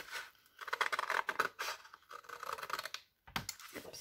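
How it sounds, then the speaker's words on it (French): Scissors snip through a paper template for an autumn-themed pouch, a run of close, crisp cutting strokes with soft paper rustle, pausing briefly before a few more snips. "je vais prendre mes ciseaux, couper donc mon gabarit"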